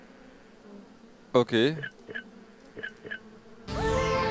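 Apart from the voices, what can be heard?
bees buzzing in the video game Escape Academy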